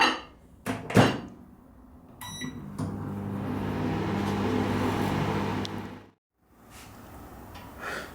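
A microwave oven runs for about 20 seconds heating chocolate with liquid vanilla in a mug, its steady mid-loud hum preceded by door and button clicks and ending abruptly, followed by faint kitchen handling sounds.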